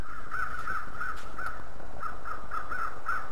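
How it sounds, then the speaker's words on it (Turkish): Crows caw repeatedly in the survival game The Long Dark, a run of harsh calls in irregular bursts over a steady wind-like background, with no talking. "Kargalar bile insanı korkutuyor ya"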